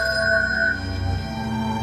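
A telephone rings steadily with a sustained electronic tone, loud and close, heard alone without voices on the night of a plane crash.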